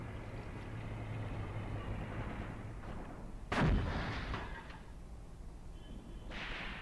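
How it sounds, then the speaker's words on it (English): Artillery and gunfire in a WWII tactical war game set around Kharkov in 1942, a low rumbling background with one sharp, heavy blast midway, followed by fainter distant reports. "Still some firing going on."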